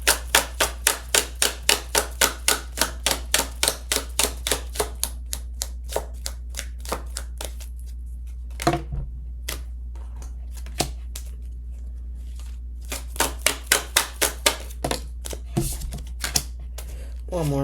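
Kipper fortune-telling cards shuffled by hand, a long run of rapid, evenly spaced papery riffle snaps up close, thinning to scattered slaps midway before the steady rhythm resumes, over a constant low hum.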